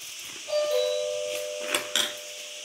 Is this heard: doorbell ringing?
yes